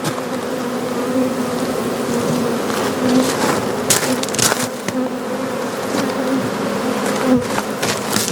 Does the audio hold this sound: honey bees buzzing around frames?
yes